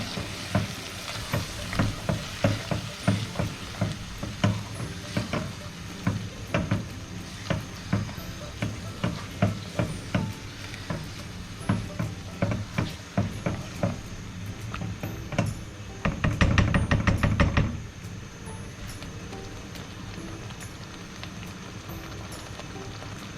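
Chicken in marinade gravy sizzling over a medium-high flame, with a steady frying hiss broken by rhythmic scrapes and stirring strokes and a brief louder burst of crackling, no talking.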